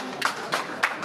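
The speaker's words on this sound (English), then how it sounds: "We clap for him." A small audience at a school debate claps for a judge, a few sharp, separate claps in quick succession, close and fairly light.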